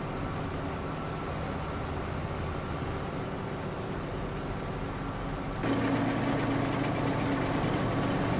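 Steady tractor engine drone in a farming video game, a continuous low rumble that grows slightly louder and rougher partway through, with no speech.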